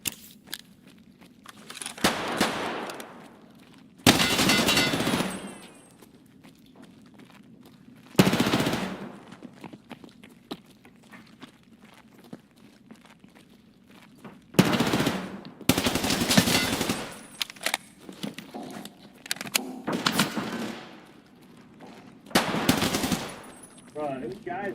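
Rapid bursts of automatic gunfire in the Free Fire battle royale game, loud and close, arriving in several separate volleys with short gaps, with a voice talking faintly under some of them.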